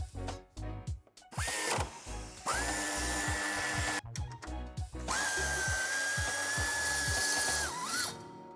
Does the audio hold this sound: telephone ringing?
no